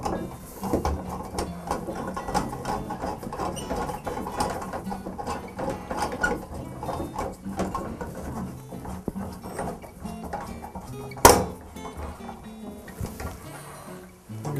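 Shower valve handle being tightened with a tool, a continuous stream of close ratcheting clicks and small metal scrapes, with one sharp clank near the end.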